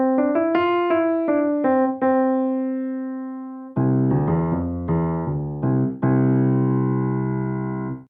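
White grand digital piano sample, with a short run of bright single notes ending on a held tone, followed by fuller, deeper chords that ring and decay, played alone and clearly with no talking.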